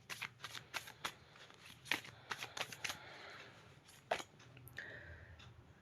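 A deck of tarot cards is shuffled close by, giving quick riffling bursts and flicks in an uneven rhythm, fairly soft and without any voice.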